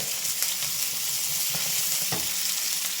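Onions frying in a hot pot for veggie lo mein, a constant close hiss with a few sharp scrapes and stirring knocks and no talk.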